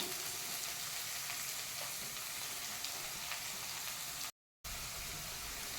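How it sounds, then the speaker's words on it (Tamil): Chopped onions fry in hot oil in a pan, giving a steady, close, even sizzle with faint stirring, broken by a brief silent gap near the end. "பாருங்க, நல்லா ஆயிலில் ஃப்ரை ஆகணும்."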